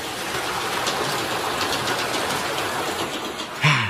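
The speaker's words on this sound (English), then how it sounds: "The train. Now that was the way to travel." A train runs steadily in an animated cartoon scene, a continuous rumbling, rattling roar that stays loud and even throughout, with a brief louder bump near the end.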